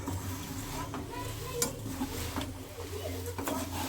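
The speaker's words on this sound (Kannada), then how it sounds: "ಸ್ವಲ್ಪ ಚೆಂದಾಗಿ ಮಿಕ್ಸ್ ಮಾಡ್ಕೋಬೇಕ್ರಿ" Flattened rice mixture for paper avalakki chivda is stirred in a pan, a continuous close rustling scrape with a light sizzle and occasional clinks of the spoon on the metal.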